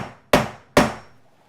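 Two sharp hammer blows drive nails into wooden door trim casing, each strike loud and close with a short decaying ring, spaced about half a second apart with no talk.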